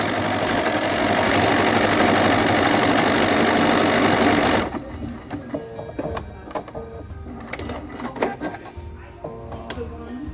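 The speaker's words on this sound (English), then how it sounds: "it's going to go back and forth over top of one another, doing a triple stitch" A Bernina 770 sewing machine runs a triple stitch, going back and forth over itself. It whirs loud and steady for about four and a half seconds, then stops, leaving quieter clicks and handling noises.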